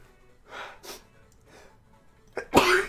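One person sneezes while painting, with a couple of soft sharp inhalations first and then a loud, close burst.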